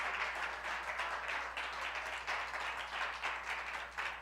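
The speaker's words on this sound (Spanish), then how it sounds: "Dele la ofrenda de palmas al Señor fuerte." A church congregation applauding together, a sustained wash of clapping that rises and falls slightly, fairly faint and heard at a distance in a large room.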